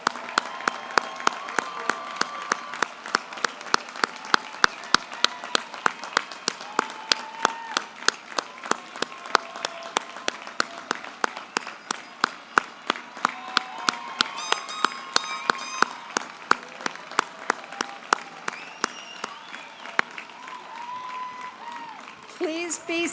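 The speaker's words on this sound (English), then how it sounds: "drown you in applause" Sustained applause from a graduation ceremony audience, dense rhythmic clapping from a large standing crowd that carries evenly for over twenty seconds, with some sharper nearby claps standing out.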